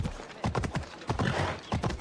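Horse hooves clop in quick uneven beats in Assassin's Creed Odyssey, a close series of sharp strikes at a trot, heard alone with no voices over them.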